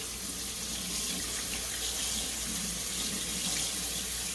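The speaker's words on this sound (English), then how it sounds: "So I'm going to run some cold water over it" Cold tap water pours in a steady, continuous rush over shell pasta in a sink, loud and close, with no voices.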